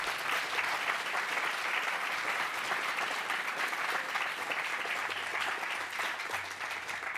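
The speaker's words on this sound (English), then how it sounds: "So please, a big round of applause for all of the winners." Sustained audience applause for award winners at a Washington State AI innovation event, steady broadband clapping from a large room that holds at an even level throughout.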